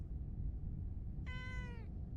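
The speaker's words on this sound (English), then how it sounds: "Meow." A single harmonic cat meow in the video game Arknights, about half a second long and clearly heard over a steady low background rumble.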